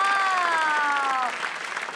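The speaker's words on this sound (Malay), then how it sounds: "Kita berikan tepukan sekali lagi" Audience applause at a Malaysian school debate competition, with steady clapping from the start that fades after about a second, mixed with voices and a brief sustained tone.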